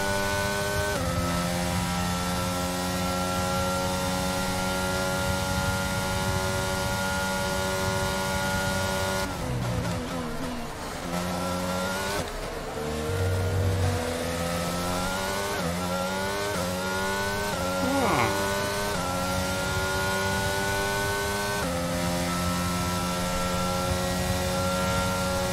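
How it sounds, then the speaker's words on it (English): Formula 1 race car engine from the F1 2022 video game at the French Grand Prix, running rough: a loud sustained drone with harmonics that drop and waver midway before settling back into a steady tone. "My car starting to sound a bit rough."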